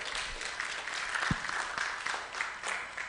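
Applause from an audience at a Software Freedom Day talk, a steady patter of many hands clapping at moderate volume throughout, with a single thump partway through.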